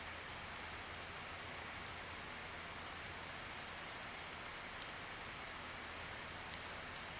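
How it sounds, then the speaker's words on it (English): Steady, soft rain falls throughout a rainy-day scene in the video game Persona 4 Golden, a continuous hiss with a few faint drip-like ticks and no talk over it. "It's a rainy day, so maybe we might find it."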